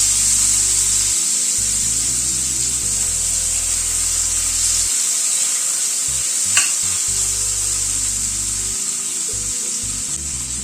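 Cut potatoes fry in a pan with spices, sizzling steadily with occasional stirring and scraping against the pan, close and continuous.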